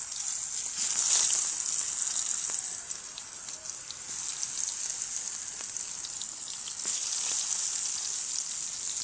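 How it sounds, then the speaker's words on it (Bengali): Eggplant slices coated in turmeric and salt hiss and sizzle in hot oil over a wood-fired stove, a steady close frying sizzle with a sharper burst early on and a few faint clinks. "এবার আমি বেগুনগুলোকে ভেজে নেব, দিয়ে দিচ্ছি বেগুনগুলো।"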